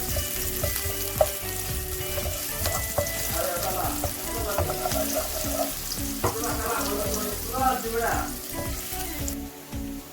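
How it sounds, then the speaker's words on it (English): Garlic sautéing in hot oil in a pan for a chickpea chana dish, a loud, close, steady sizzle and crackle with occasional stirring scrapes, continuous throughout before easing off at the very end. "Now that the oil has heated up, I'm going to add the garlic, and I'm going to saute it until it goes golden."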